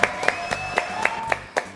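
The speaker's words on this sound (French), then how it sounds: "Allez, on l'applaudit encore" Studio audience on a French talk show clapping for a guest named Pierre, a series of sharp, evenly spaced claps about four per second, close and clear, with a faint tone sounding underneath.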